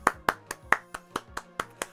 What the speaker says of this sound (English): I gotta give you all a round of applause.